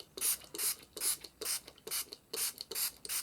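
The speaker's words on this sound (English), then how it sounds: "spray some water in" A handheld spray bottle spritzes water in seven quick, evenly spaced hissing bursts, close and fairly quiet, with no talking.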